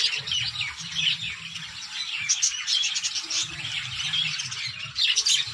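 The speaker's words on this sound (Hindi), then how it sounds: "देखिए जी, ऑस्ट्रेलियन तोते बड़ी नायाब नस्ल के जो है वो गोल्डन कलर में है और बहुत सारे कलर में हैं।" Australian parrots in an aviary at a safari park squawk and chirp repeatedly in overlapping harsh calls, fairly close, with low cooing underneath.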